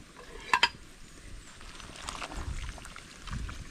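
A spoon stirs bulalo beef shank soup with onions in a pot, two sharp clinks against the metal early on, then softer scraping and sloshing that continue quietly to the end.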